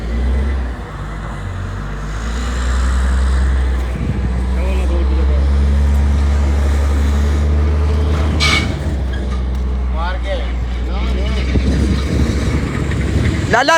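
A car engine idles after being flooded in Dubai rain, its drive belt squealing and chirping over a steady low rumble, with people talking close by throughout.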